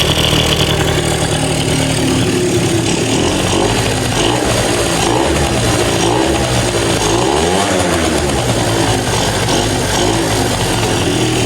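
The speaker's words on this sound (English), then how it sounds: "so it's idling good" A 2005 Yamaha Zuma scooter fitted with a cheap big bore kit idles close by on a dyno, a steady buzzy putter holding throughout with a slight dip and recovery midway.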